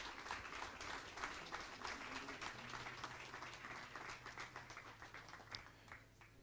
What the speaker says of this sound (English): But a big applause for the quota winner and the bronze medalist, Andrea Leverani, Italy!